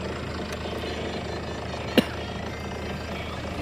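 A borewell drilling rig runs at night in a farm field, giving a steady, loud mechanical drone with a rough, pounding texture and one brief sharp knock partway through, with no voices.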